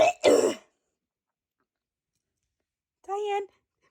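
A woman gives a couple of sharp, throat-clearing coughs up close, then after a silence a short voiced sound follows.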